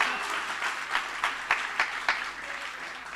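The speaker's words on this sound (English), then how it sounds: "it's going to be interrupted by clapping" An awards-ceremony audience claps during a journalism awards speech, a dense patter of hands with a few louder individual claps standing out, sustained for a few seconds and gradually thinning, with no talk over it.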